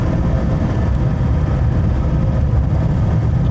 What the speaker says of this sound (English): There's a fair bit of noise, road noise coming through from the back because there is no parcel shelf.